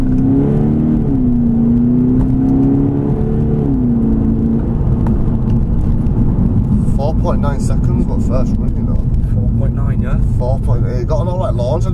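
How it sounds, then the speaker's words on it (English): A VW Scirocco 2.0 TDI with 175 BHP, fitted with a tuning box or remap, pulls hard in a 0-60 launch on a 60 mph road, a loud, continuous diesel engine drone from inside the cabin as the revs rise and shift, with voices talking over it. "we're gonna do a quick 0-60 run on a 60-mile-an-hour road"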